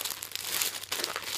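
Plastic packaging around a newly delivered girl's dress being opened, with close, steady crinkling and rustling throughout and a few sharper tearing bursts.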